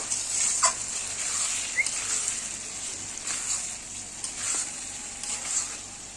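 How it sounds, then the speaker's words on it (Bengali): Spice paste for egg curry sizzles in hot oil with a steady, close frying hiss, broken by small scraping stirs and spits, with no talking. "এখন এটা দিয়ে কষবো।"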